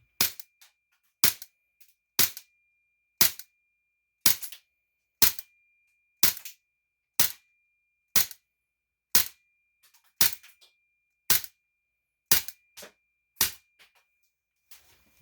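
A KJW SP01 airsoft pistol fires BBs until its magazine runs empty, giving about fifteen sharp, loud cracks in a steady rhythm roughly one second apart, with nothing else heard between shots.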